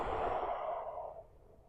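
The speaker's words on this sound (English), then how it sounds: "exhale" A long, soft breath is let out during a tai chi practice, a close, airy exhale that fades away gradually over about a second and a half.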